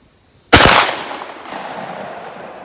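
A single loud shotgun blast fired at a zombie target outdoors, a sharp close crack at the start followed by a long rolling echo that fades slowly.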